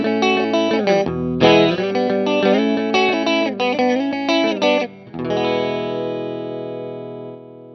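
Electric guitar played through an IK Multimedia Orange Tiny Terror into an Orange cab with a G12H30 speaker, mid-heavy and distorted: chopped strummed chords in quick bursts, then one sustained ringing chord fading out, loud and close, no voices.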